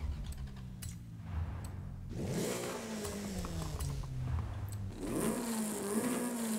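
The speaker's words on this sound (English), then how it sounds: "Okay, the exhaust changes completely." A car fitted with a new exhaust in Forza Horizon 5 revs up and down twice, its engine note rising and falling with a throaty pitch sweep, while faint keyboard-like clicks tap along in the background.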